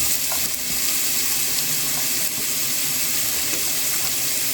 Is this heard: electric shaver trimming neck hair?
no